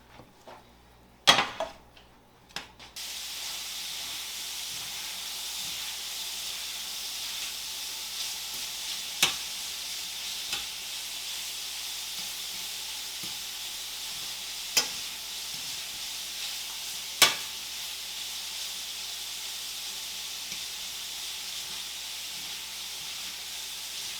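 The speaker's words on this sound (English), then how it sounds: "I'm going to cook this in a little skillet. Brown it up." Meatloaf browning in a small skillet gives a steady, moderate sizzle, with a few clattering handling sounds at the start and occasional sharp pops.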